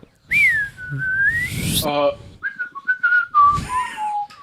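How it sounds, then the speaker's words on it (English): A person whistles a loud, close melodic phrase with sliding pitches, pausing briefly before a string of shorter whistled notes. "You wanna whistle"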